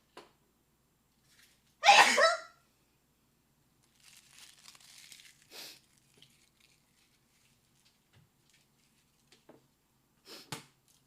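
A single sharp sneeze blasted straight into a microphone, loud and close, followed by quiet rustling and faint small noises in an otherwise silent room.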